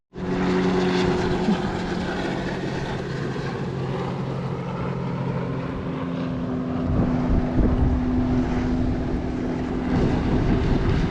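A propeller plane passes over a lake during a holiday weekend, its engine drone continuous and fairly loud, swelling a little toward the end with no voices present.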